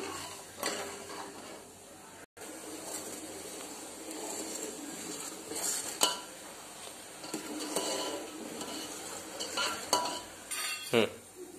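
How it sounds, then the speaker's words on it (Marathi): A spoon stirs sugar syrup in a pan while making amla murabba, giving soft, continuous scraping and clinking against the metal with a few sharper knocks, close and fairly quiet, no talking. "पाक चांगला हलवून एक 2 तारी ताक बनेपर्यंत त्याला हलवायचं आहे"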